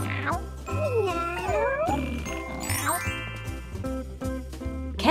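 Cartoon cats on a children's farm counting game give several rising and falling meows, fairly loud over a bouncy music track with tinkling chimes.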